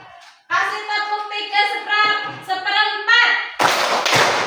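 A classroom of students bursts into hand clapping: voices chant or call out for most of the stretch, then a loud, dense round of clapping breaks in near the end and carries on.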